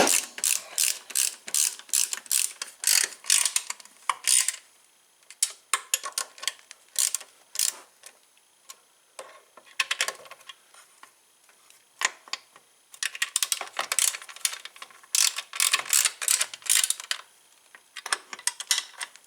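Ratchet wrench tightening bolts on a 2012 Tao Tao scooter variator, clicking in rapid bursts of pawl clicks separated by short pauses, close and crisp with no talk.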